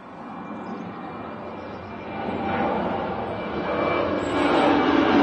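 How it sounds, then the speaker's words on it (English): A KLM jet airliner departs Manchester Airport, its broad engine roar building steadily louder across the few seconds, close and unbroken with no talk. "So this is the KLM on the way out."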